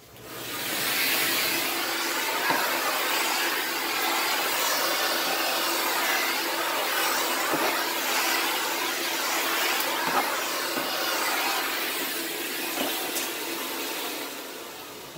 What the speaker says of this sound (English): it's a HEPA vacuum, which meets a very high standard for removing particulates